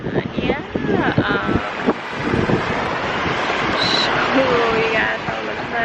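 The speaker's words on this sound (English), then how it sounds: "we wanted to go to the beach. So here we are, but it's really windy." Strong wind at Lanikai beach buffets the microphone in a loud, continuous roar, with people's voices and faint chatter mixed in early on under the rumbling gusts.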